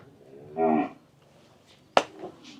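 A bull from a cattle sale lows once in a short, moderately loud moo, followed by a sharp click and faint background sounds, without talk.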